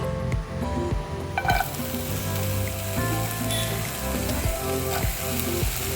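Sliced onion and carrot sizzle in oil in a pan, a continuous close frying hiss broken by a few scraping stirs and clinks of a utensil, with no voices.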